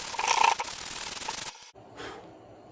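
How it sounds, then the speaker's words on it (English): Hand sanding the bare metal steering column of a 1964 MGB during restoration, close scratchy rubbing strokes that stop briefly, then one more short pass. "I'm sanding the steering column."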